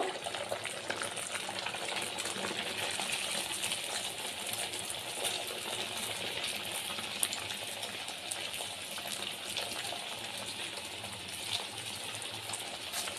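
Khaja pastries fry in hot oil with a continuous, even sizzling hiss that holds steady from start to finish, with no voices.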